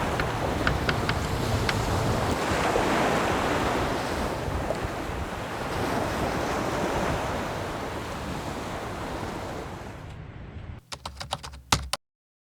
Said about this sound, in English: we can hear the ocean and the waves down there